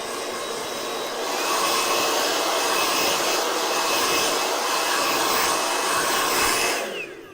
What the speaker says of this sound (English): let's use the blow dryer to wipe out the extra hair here